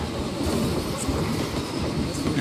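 Train ride in the theme-park game Planet Coaster, heard from the back car as a constant loud rumble of wheels clattering over the rails, dense and unbroken, with no talking.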